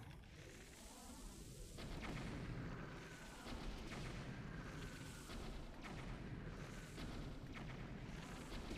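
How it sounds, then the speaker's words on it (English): Fireworks bursting in a Zelda video game, a dense run of booming explosions with crackling trails. Repeated heavy blasts land every second or so over a constant roar. "Look at all the pretty fireworks."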